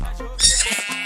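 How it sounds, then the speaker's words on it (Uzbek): A baby sheep in the Minecraft video game gives a short, high, wavering bleat, close and clear, with a brief second sound just after. "mana bitta qo'yi bolasi"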